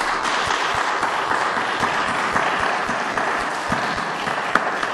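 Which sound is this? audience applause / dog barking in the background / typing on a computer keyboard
audience applause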